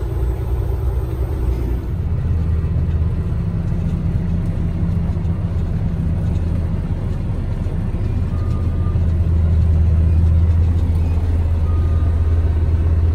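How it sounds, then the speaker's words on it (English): Heavy road milling machine ripping up asphalt at the Port of Savannah, a steady loud low rumbling grind that holds throughout and swells toward the end. "That's milling the road"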